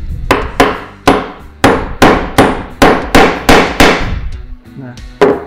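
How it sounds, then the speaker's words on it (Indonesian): A Bison G20070 mini impact screwdriver is struck repeatedly with a hammer, about a dozen loud, sharp metallic blows in a steady rhythm, each ringing briefly, very close. "Nah, baru kita coba pukul ya."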